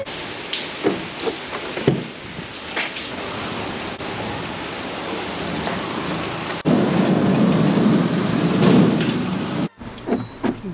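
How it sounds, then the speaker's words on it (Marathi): Heavy, steady rain roars outside, a dense continuous wash that grows louder partway through, with a few brief knocks and a sudden cutoff near the end. "बाहेर धो पाऊस चाललाय सकाळपासून"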